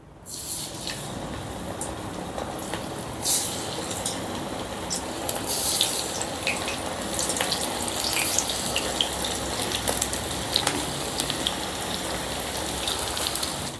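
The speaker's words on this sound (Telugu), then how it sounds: "ఇప్పుడు స్టవ్ని లో ఫ్లేమ్లోకి మార్చుకొని ఈ క్యాలీఫ్లవర్ ముక్కల్ని వేసుకుందాం" Cauliflower pieces for gobi 65 dropped into hot oil on a low flame sizzle steadily, a dense bubbling hiss that stays fairly even for the whole stretch, with no talking.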